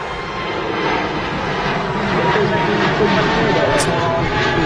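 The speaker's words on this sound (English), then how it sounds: "The EasyJet A330 Neo is off to Amsterdam, and as that departs" An EasyJet Airbus A330neo jet departs the airport, its engines a steady, broad roar that holds for several seconds under continuous talk.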